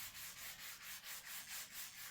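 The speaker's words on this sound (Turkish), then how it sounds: "Bu gördüğünüz kırmızı zımparalar, ben siyah marka zımparaları tercih ederim." Sandpaper is rubbed over a repaired break on a guitar in quick, even back-and-forth strokes, about nine of them. The rasping is close and steady, and no one talks.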